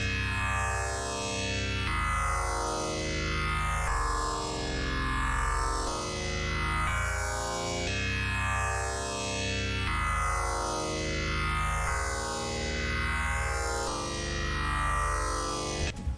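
Repeating two-note synth clavinet chords with a sweeping filter that rises and falls in slow cycles, washed in reverb, playing alone.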